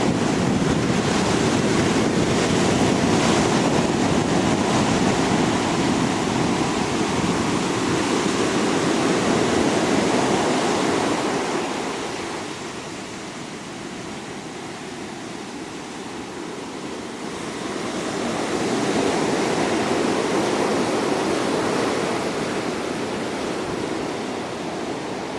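Gentle surf washing onto a shore on a calm, flat sea, a continuous broadband wash that swells and eases, with a quieter lull midway and light wind noise throughout, no voices.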